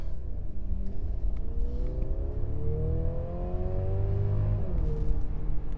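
A 2023 Mercedes GLC 300 in sport mode accelerates, its engine note climbing steadily in pitch under constant road rumble, then briefly dropping as if shifting before rising again.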